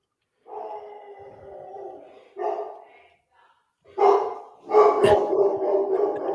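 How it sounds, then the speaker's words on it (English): A dog barks in several short bursts, loud and close, with pauses between the groups of barks and a final cluster that runs together. "Woof, woof, woof, woof."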